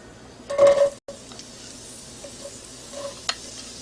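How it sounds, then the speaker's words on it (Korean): Green onion and minced garlic hit hot perilla oil in a frying pan with a short, loud sizzling burst, then settle into a faint, quieter crackle with a few light clicks. "파하고 다진 마늘을 먼저 좀 볶아주세요"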